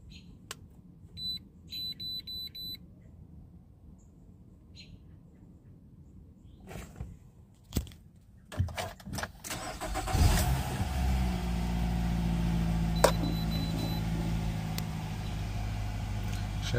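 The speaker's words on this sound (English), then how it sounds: "go ahead and start it up." A 2011 Nissan Rogue 2.5 engine cranks and catches after alternator and catalytic converter repair, then settles into a steady, loud idle close by, preceded by a few clicks and beeps.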